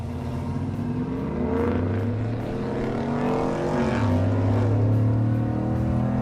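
A truck engine roars continuously at full throttle on a dyno, climbing in pitch as it revs hard, with the tone dipping then rising again near the end.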